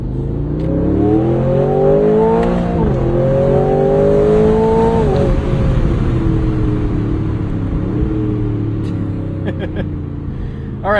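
A 2026 Aston Martin engine revs loudly and continuously from the driver's seat, its pitch rising and falling through gear changes, with exhaust burble underneath and a few crackling pops near the end.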